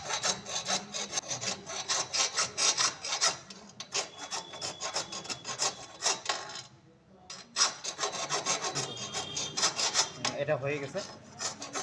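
Hand rubbing and filing on a motorcycle chain link, a Honda Shine SP drive chain, with steady rasping back-and-forth strokes that pause briefly and resume, close and fairly loud, with a few words spoken.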